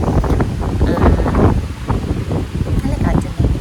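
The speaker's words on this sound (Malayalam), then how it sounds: "നല്ല കാറ്റുണ്ട്" Strong wind gusts across the microphone on a hill station outing in Munnar, a loud continuous buffeting roar with voices faintly underneath.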